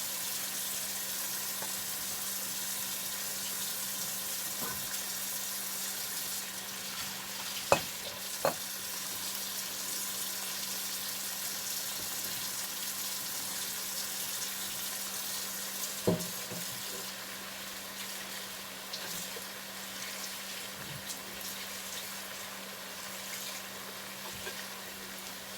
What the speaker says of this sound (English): So I'm going to add, we're going to get some hot water.